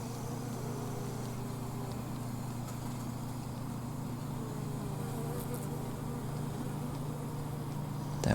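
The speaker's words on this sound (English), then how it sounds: "Bees are going ham. Bumblebees and honeybees." Bumblebees and honeybees buzz steadily around flowering lavender in a garden, a continuous low drone close to the microphone with no pauses, holding an even level throughout.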